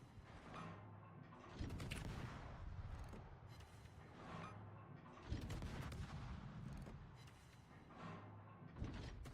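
Naval guns firing in the World of Warships game, repeated booming salvos with rumbling tails, rolling in every few seconds at a steady, fairly distant level.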